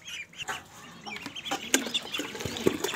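Fancy hens cluck in short, scattered bursts close by, with faint rustling and movement around them.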